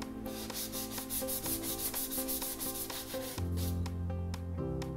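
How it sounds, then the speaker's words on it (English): A surface is sanded back to a seamless finish with quick, regular rasping strokes, evenly paced and fairly close, set against steady background music that shifts chords partway through. "So impossible to stain these things because you can just sand it back"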